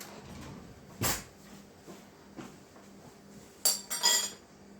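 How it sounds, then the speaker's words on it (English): Metal spoon clinking against a bowl while stirring frosting tinted pink with red food coloring, with a few sharp scattered clinks, two close together near the end, over quiet room tone. "let me grab a spoon so that way we can mix it"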